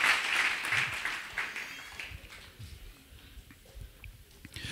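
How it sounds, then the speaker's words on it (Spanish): A church congregation gives strong applause, loud at first and then thinning to scattered claps and low crowd noise. "Dele fuerte aplauso al Señor"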